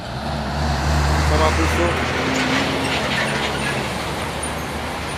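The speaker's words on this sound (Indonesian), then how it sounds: "Dan ada trailer Isuzu dari atas tanjakan" An Isuzu trailer truck rolls down a hill, its engine a low rumbling drone with tonal whine, close and steady amid road traffic noise, with people talking over it.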